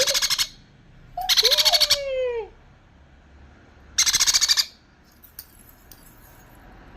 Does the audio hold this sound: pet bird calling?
yes